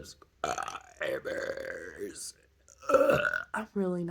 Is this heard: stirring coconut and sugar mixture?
no